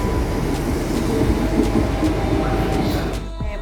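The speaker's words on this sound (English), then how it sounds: "I'm on the train." Steady rumble of a moving train in London from inside a carriage, with low rattling and periodic clacks of the wheels on the track.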